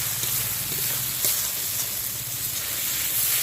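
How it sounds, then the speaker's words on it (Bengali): Spice paste with tomato, turmeric and chili fries in oil for a chicken and potato curry, crackling in a steady close sizzle with some stirring. "এই মশলাটা আমি ভালো করে কষে নেব।"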